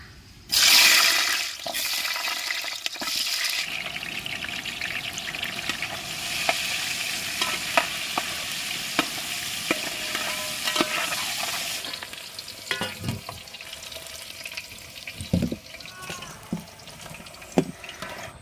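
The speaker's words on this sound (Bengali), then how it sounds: "গরম হান্ডির মধ্যে দিয়ে দিচ্ছি সর্ষের তেল" Mustard oil hits a hot handi cooking pot with a sudden loud hiss, then settles into a steady close sizzle broken by occasional clinks and scrapes of a utensil.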